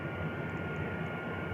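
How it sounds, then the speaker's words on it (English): Jet engines spin up in a flight video game, a steady whining drone with an even, continuous roar and no voices over it. "Jet engines can get kind of whiny in this game"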